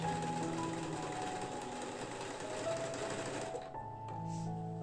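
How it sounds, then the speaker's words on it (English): A sewing machine stitches a cotton dress with a steady, close, fast mechanical whirr that runs almost nonstop, dips briefly near the end and then starts again. "Back to the sewing machine."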